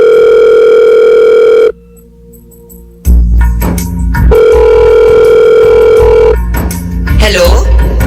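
Telephone call tones on a phone dialing a son: a loud steady tone, then a pause of near silence, then dial clicks and another sustained tone before a brief voice and more sounds at the end.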